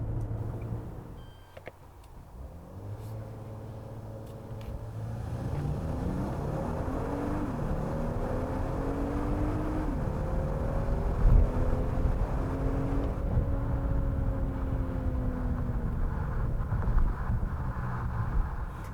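A 2020 Genesis G90 sedan with a 3.3-litre twin-turbo V6, eight-speed automatic and HTRAC accelerates hard, its engine note climbing steadily through the gears under loud wind and road rush, heard from inside the car.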